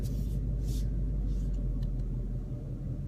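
A 2016 Ford Mustang GT V8 with automatic transmission rumbles low and steady while driving in first gear, heard from inside the car with faint background noises.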